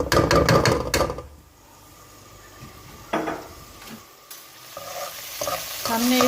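A teaspoon of garlic frying in a little oil in a pan for chicken Manchurian sizzles steadily. Loud bursts of stirring and scraping open the sound, then quieter sizzle follows with occasional utensil clinks against the pan.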